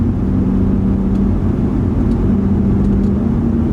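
A BMW E92 M3 engine pulling at about 20% throttle gives a loud, steady, low droning hum that holds even and continuous throughout, with no voices.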